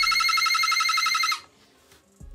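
A G1 Transformers toy powered by a 9-volt battery plays a loud, shrill, warbling electronic tone for over a second, then cuts off abruptly, leaving near silence and a faint thump.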